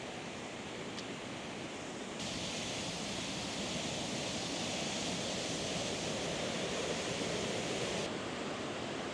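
A waterfall roars as a constant, dense rush of falling water, unbroken and fairly loud for the whole stretch, with no voices over it.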